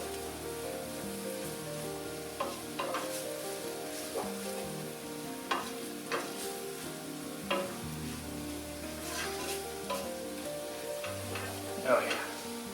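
A flour roux for New England clam chowder cooks in a pot with a steady sizzle. A spoon stirs and scrapes in repeated bursts every second or two, close and moderately loud.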